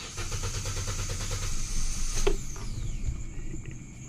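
A 2020 Hyundai Accent with a check engine light and a bypassed air-conditioning wire being started, a cranking whir followed by the engine catching and settling into a low idle, close by.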